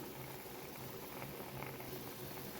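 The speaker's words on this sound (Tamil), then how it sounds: "நல்லா கொதிக்குது" Steady bubbling and rolling of coconut milk and salt boiling in a pot for kozhukattai, a continuous close simmering hiss with no voices.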